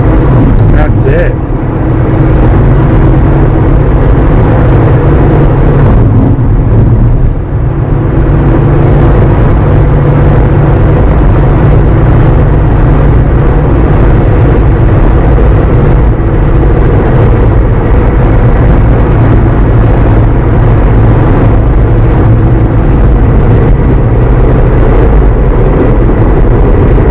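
A Volkswagen Touareg TDI diesel engine drones steadily and loudly under load while towing up a mountain road in automatic drive, a continuous low rumble with road and wind noise throughout.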